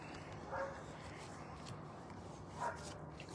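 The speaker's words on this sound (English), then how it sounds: "I didn't even notice the dog was barking." A dog barks twice in the distance, a couple of seconds apart, over a quiet background murmur.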